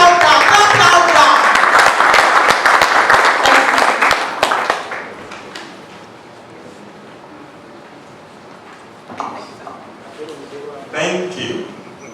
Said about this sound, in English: Please put hands together for him. Please clap louder, clap louder.